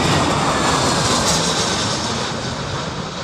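Airliner landing at Heathrow airport during Storm Isha, a loud continuous jet engine roar with broad wind-blown rushing noise, steady and close throughout with no talk.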